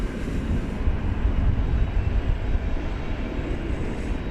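A Boeing 787 Dreamliner at DFW Airport gives off a steady, fairly loud low jet rumble with a faint high whine, continuous and without voices.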